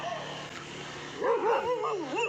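A dog yelps and whines in a quick rising burst near the end, after a stretch of quiet background noise.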